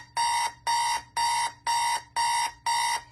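Another 1980s alarm clock screeching: six loud, harsh electronic bursts repeat at a steady pulse with brief silences between, close and alone without speech.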